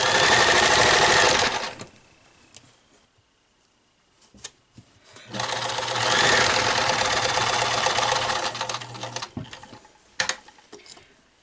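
A sewing machine stitches a fabric face mask in two bursts: a loud, fast mechanical whir for under two seconds, a pause with faint handling clicks, then a longer steady run of about four seconds, close up with no talking.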